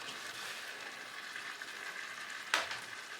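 Tomatillo and fresh tomatoes sizzle steadily in a curry pan at home, a continuous close crackle with one brief louder hiss as more goes in near the end.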